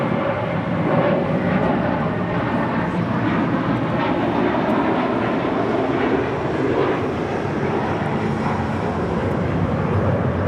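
A JetBlue Airbus A321 jet takes off at LAX, a steady loud broadband engine roar filling the whole stretch without letup, no voices over it.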